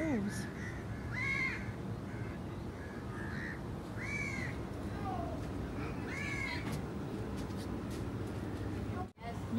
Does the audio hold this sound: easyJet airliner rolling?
no